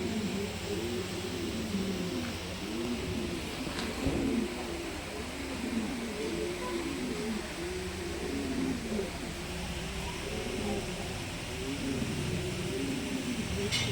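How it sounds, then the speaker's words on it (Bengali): Pigeons of a fancy bred variety cooing in a loft, a steady run of low rolling coos repeating close by over faint background hiss, with no one talking. "কত সুন্দর বকবকুম বকবকুম বকবকুম করে ডাকছেন"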